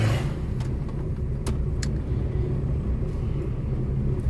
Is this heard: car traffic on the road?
yes